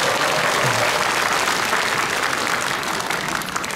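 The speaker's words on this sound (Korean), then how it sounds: "큰 박수 다시 한번 부탁드리겠습니다." An audience at a Buddhist ceremony marking the 50th anniversary of military chaplains applauds in a dense, loud wash of clapping that holds steady before tapering slightly near the end.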